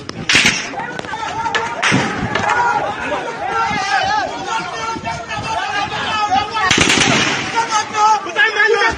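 Gunfire during a shooting, with a few sharp cracks and thumps standing out near the start, around two seconds and near seven seconds amid a noisy crowd of agitated voices and shouting.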